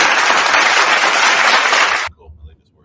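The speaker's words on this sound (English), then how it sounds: "The applause for you." Dense, steady applause from a crowd for about two seconds, then it cuts off abruptly into near silence.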